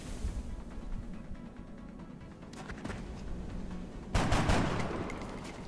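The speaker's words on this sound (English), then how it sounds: "And you go ahead and shoot." Gunfire from a soldier shooting in the XCOM strategy game, a burst of loud sharp shots rising over a steady rumbling game soundscape, with the heaviest blast near the end.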